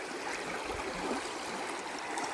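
Water of the Sun River in the Bob Marshall Wilderness flows in a soft, steady babble, faint and close, with no voices over it.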